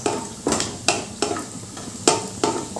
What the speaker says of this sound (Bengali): এবার কাজুগুলো আমি একটু ভেজে নেব।